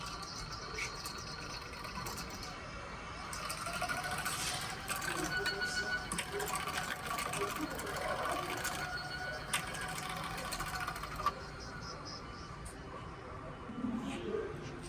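Milling machine X-axis power feed motor with a cracked housing and disengaged gears, running with a steady whirring, rattling mechanical drone and some irregular clicks, close by and without speech.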